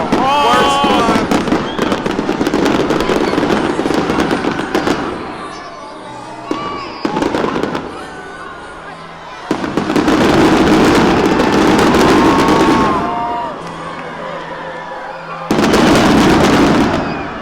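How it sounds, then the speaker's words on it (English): Fireworks at a downtown Fort Wayne Christmas light festival, dense crackling and booming barrages in several loud waves with brief lulls between, crowd noise and voices mixed underneath. "Fireworks were great."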